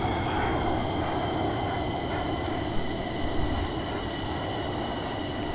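An F-15EX jet engine roars steadily from inside the cockpit on approach as the power is pulled back. The broad, loud rushing drone continues without a break.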